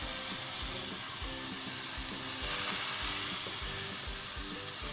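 Chopped fenugreek leaves stirred into potato sabzi in a pan, a continuous close sizzle with a rhythmic scrape-and-tap of the spoon throughout, no voices.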